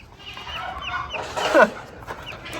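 A baby chick hatched by a Muscovy duck peeps and clucks nearby on a farm, several short chirps over a steady outdoor background.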